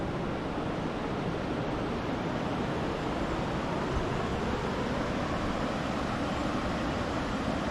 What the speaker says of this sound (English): usually over here you're not getting as much of that whitewater action where the water is just coming over so fierce